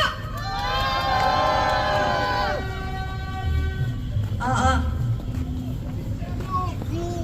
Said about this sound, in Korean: 마지막 자유발언자를 큰 박수로 모시겠습니다